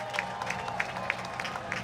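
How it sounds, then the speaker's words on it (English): Scattered clapping at a live drift challenge event in Long Beach, after a birthday song, moderately faint, with a few sharper individual claps standing out over a crowd murmur. "Everybody, round of applause for Dwight Tanaka"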